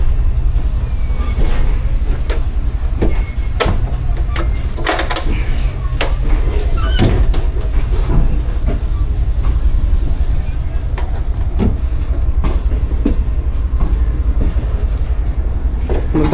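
Pakistan Business Express passenger train departing Multan Cantt, heard from inside a coach: a loud steady rumble of wheels on rails with scattered clicks and knocks throughout, and faint voices in the background.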